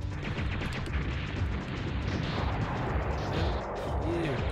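Turrets exploding in the video game Silent Bomber, a dense roaring blast of low booming rumble that fills the whole moment, loud and continuous with no talking over it.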